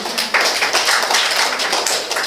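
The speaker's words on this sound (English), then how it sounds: "Clap for yourselves." A workshop audience claps for themselves, a brief burst of scattered hand claps from a seated group, moderately close and steady for a couple of seconds without any talking.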